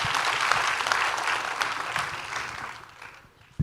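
Audience clapping at a talk, a steady burst of applause that gradually thins and fades toward the end, ending with a sudden thump.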